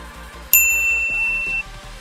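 A bright notification bell dings once, a sharp metallic strike whose clear tones ring on for about a second before fading, set over a quiet low hum.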